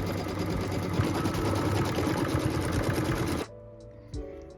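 A sewing machine quilts fabric pieces with a steady, fast stitching run at close range, then stops abruptly, leaving a few faint clicks and handling sounds.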